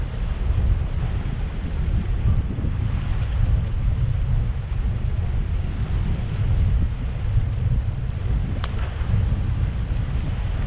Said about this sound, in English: this wind is supposed to be northeasterly and it's more southeast